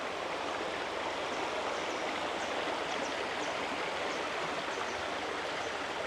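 A forest stream in Wales runs at full force, rushing in a dense, even wash of water that stays loud and unbroken throughout, with no voices.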